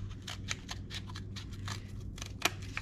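Scissors snip through a cardboard toilet paper roll, cutting it into rings for a cat toy, with a string of quiet, close crisp cuts and one sharper snip near the end, set over a faint low hum.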